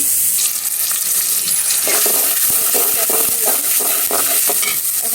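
Oil sizzles loudly in a cooking pan, a dense continuous hiss broken by scattered scraping clicks of stirring, close and with no talk.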